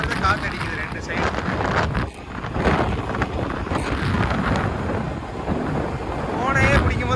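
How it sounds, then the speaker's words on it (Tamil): Strong wind roars steadily against the microphone during a long-distance ride on an Activa 6G scooter, loud broadband buffeting that swells and dips, with someone talking over it throughout. "ஆனால் காற்று தாங்க இந்த 1 மணிக்கெலாம் வரும்போது இந்த மாதிரி தான் காற்று அடிக்குது 2 சைடு."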